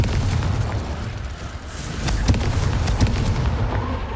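The Confringo blasting spell in Hogwarts Legacy erupts as deep booming explosions over a rumbling low background, a couple of sharper bursts standing out amid the continuous roar.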